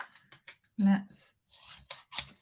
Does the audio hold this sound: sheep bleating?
no